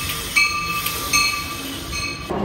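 Train noise at a station, with steady rail hum, faint wheel squeals and tonal whines, brief louder clanks near the start and middle, and a shift in sound at the very end.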